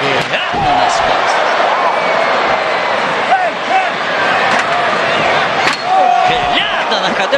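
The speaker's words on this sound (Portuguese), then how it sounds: "Cadeira nas costas." Steel chair shots land during a WWE SmackDown No DQ match between Solo Sikoa and Matt Riddle, a few sharp slamming cracks cutting through continuous arena crowd noise and excited commentary.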